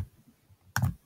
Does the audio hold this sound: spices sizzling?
no